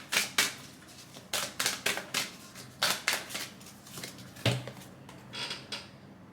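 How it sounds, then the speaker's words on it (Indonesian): A deck of oracle cards is shuffled close up, a series of crisp riffling and snapping bursts in an uneven rhythm, with no speech. "shuffle the deck untuk kartu atau potion kedua."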